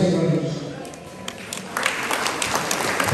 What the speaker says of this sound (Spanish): las aplausos para el padrino